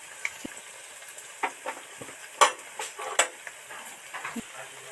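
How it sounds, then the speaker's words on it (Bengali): Drumstick flower pakoras fry quietly in oil, giving a soft background sizzle broken by scattered light pops and crackles, with no voices. "আস্তে আস্তে আস্তে আস্তে তেলের মধ্যে ডুবিয়ে দেবো"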